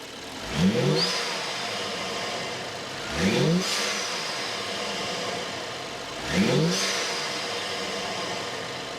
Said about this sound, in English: that's a lot of turbo noises